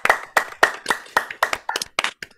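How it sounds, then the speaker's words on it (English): Scattered clapping from a few people on a video call, about ten uneven claps heard close and somewhat clipped, thinning out and stopping after two seconds. "Let's give them a real round of applause."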